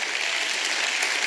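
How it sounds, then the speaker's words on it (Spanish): A church congregation gives a loud, dense round of applause, a steady wash of many hands clapping together with no break and no voices standing out. "Bríndele un fuerte aplauso al Señor."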